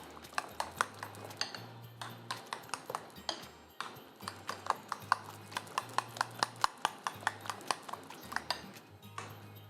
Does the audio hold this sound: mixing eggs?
yes